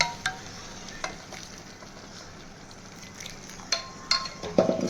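Arhar dal being stirred into spices in a pan: a steady soft sizzle carries under scraping stirs, with a few sharp clinks of the spoon against the pan near the end.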